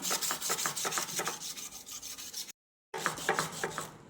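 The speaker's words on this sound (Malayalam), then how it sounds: "എന്നിട്ട് നമുക്കിത് അടുത്ത കത്തി എടുക്കാമേ. അതും കൂടി ഇതുപോലെ നന്നായിട്ടൊന്ന് ഉരച്ചു കൊടുക്കണം." Abrasive rubbing of a rusty kitchen knife blade to strip the rust, a steady run of rhythmic rasping strokes close by, pausing briefly partway before the scrubbing resumes.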